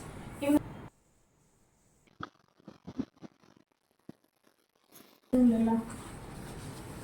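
Scissors cut silk fabric for a traditional skirt and blouse for a girl aged 8 to 10. The snips are faint and scattered, with short blade clicks in a quiet stretch, and a voice talks before and after.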